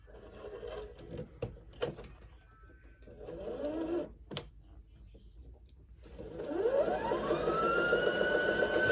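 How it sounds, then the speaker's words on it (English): Sewing machine motor whirring in bursts and then running steadily as it winds a bobbin, the pitch climbing and holding high in a close, continuous hum. "so that now I can wind my bobbin up real quick"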